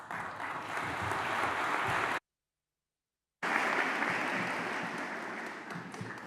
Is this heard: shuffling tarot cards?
no